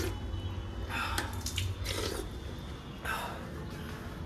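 Cold, clean water runs from a tap at a roadside stop on a long motorbike trip, a close, hissing stream with a few brief surges over a constant background rush.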